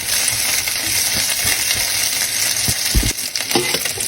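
Rissoles frying over low to medium heat in a pan, a steady close sizzle with scattered small pops and crackles running throughout.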